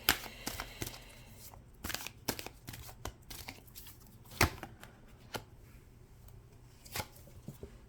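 Tarot cards shuffled by hand make close, soft riffling and sharp slapping snaps in irregular bursts, with no talking.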